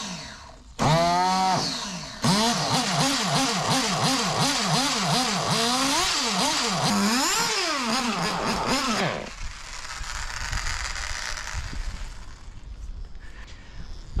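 A small Ielasi nitro engine for a radio-controlled model screams through rapid revs, climbing and falling in quick repeated bursts, then drops away to a quieter background.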